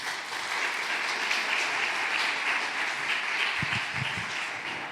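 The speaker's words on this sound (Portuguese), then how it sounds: "Uma salva de palmas para o Nailton, gente." Steady applause from an audience at a Brazilian culture and health seminar, dense and sustained across the whole stretch, with a few low thumps near the end.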